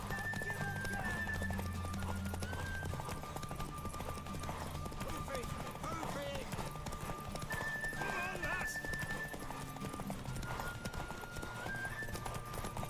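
Hooves clip-clop rapidly in a steady galloping rhythm in The Witcher 3 video game, with a horse whinnying and voices and music-like tones layered over the scene.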